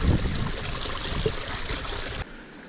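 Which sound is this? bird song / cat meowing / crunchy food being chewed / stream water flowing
stream water flowing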